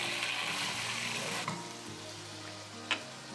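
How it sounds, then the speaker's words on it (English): Steady close sizzling and crackling of potatoes frying in hot oil, with a couple of brief clinks of utensils. "First we will fry the potato in oil."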